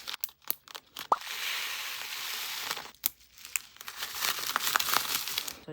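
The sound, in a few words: crinkling small zipper bag filled with dice and bubble parts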